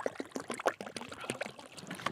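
Water poured from a bottle into a small pit dug in the ground, giving uneven splashing and trickling bursts with gurgles, close and moderately loud, alone without speech.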